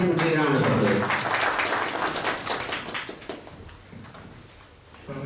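A conference audience at WordCamp Nepal applauds presenters, a dense wash of clapping that starts loud and gradually fades away, with a voice heard near the start.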